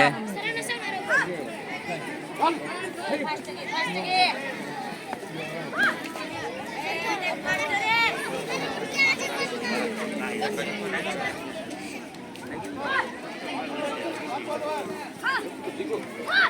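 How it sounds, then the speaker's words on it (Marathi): Spectators packed around an opening kho-kho match at a school taluka-level boys' tournament keep up constant overlapping chatter and calls, a busy murmur of many nearby voices throughout. "उद्घाटनीय सामना असल्यामुळे सामना पाहण्यासाठी भरपूर गर्दी आहे"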